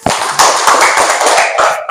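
Dense applause from a classroom audience during a school lesson, many hands clapping in a steady, crackling burst that fills the whole two seconds and fades at the end.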